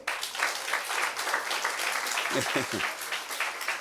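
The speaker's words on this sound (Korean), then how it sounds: "여러분 박수!" Church congregation clapping at a Sunday afternoon service, a steady broadband patter of moderate loudness filling the whole stretch, with a few low thumps and a voice murmuring faintly underneath.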